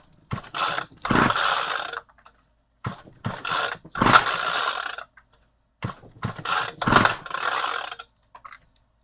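A Homelite string trimmer is pull-started repeatedly, each yank of the recoil cord giving a short ratcheting whir in separate bursts, with no engine catching.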